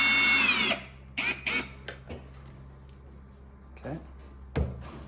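Screws are driven into a Maytag dishwasher panel, with a short burst of power-driver whir at the start, then scattered clicks and knocks of handling in a quiet room.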